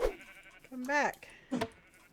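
Minecraft sheep give a few wavering bleats in quick succession, close and clear, one rising and falling call standing out among shorter ones.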